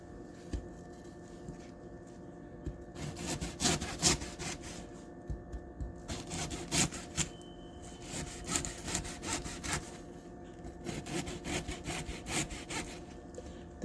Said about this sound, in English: try not to cut all the way through it, but cut really thin little pieces, slices.